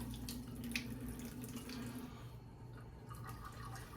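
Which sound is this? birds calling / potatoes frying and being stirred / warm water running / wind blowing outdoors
warm water running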